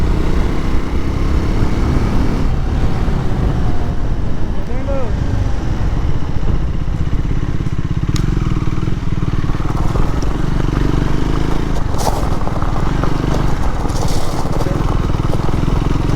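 Triumph Scrambler 400x motorcycle engine running and revving during an attempted skid, a loud steady rumble close by with wind noise and someone talking over it.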